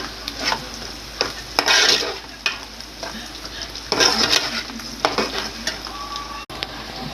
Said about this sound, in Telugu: చక్కగా గోల్డ్ కలర్ వచ్చేదాకా పెద్ద ఉల్లిపాయలు పెట్టుకోవాలి.